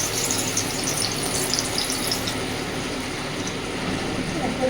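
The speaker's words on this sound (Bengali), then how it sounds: "তেল এবার এদিকে গরম হয়ে গেছে। এবার তেলের মধ্যে সেই গুলে রাখা মশলাটা দিয়ে দিয়েছে।" Spice paste hits hot oil in a pan while cooking a hilsa fish curry, giving a steady, moderately loud sizzle and hiss that continues throughout.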